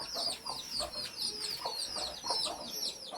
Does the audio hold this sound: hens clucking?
yes